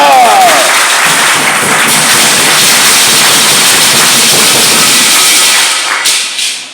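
A church congregation at a Sabbath sermon in Tapeoua breaks into loud, sustained clapping and cheering that fills the space evenly, dense and continuous before easing off at the end.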